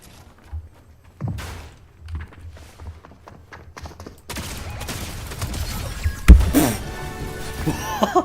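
Rifle gunfire in the video game Fortnite: scattered thuds and footstep-like taps, then a denser burst of rapid shots with a sharp loud crack mid-way, over game ambience.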